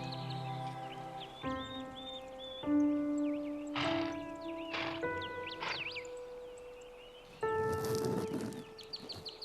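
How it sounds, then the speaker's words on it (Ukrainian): Birds chirp and warble in the morning in the Ukrainian Carpathian mountains on the trail to Hoverla, with thin high calls over steady, sustained tones in the background and no talking. "Пташки сьогодні замість будильника."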